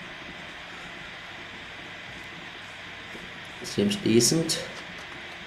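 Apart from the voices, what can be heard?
locomotive train in The Walking Dead video game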